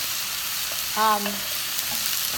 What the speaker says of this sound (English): right now I have some onion sauteing in here